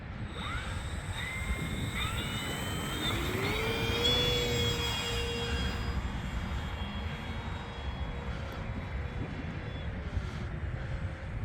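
A FMS P-47 Razorback RC model airplane's electric motor whines steadily and loudly through a takeoff run, its pitch sweeping upward as the plane climbs away.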